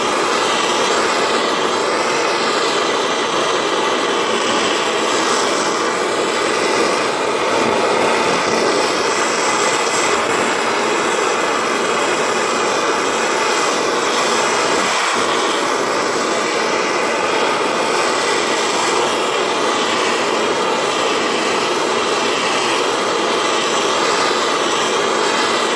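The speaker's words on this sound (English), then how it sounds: "I'm heating it from the bottom just to get the whole crucible warm." Torch flame heating a crucible from below for melting scrap silver, a steady loud broadband roar that holds without pause throughout.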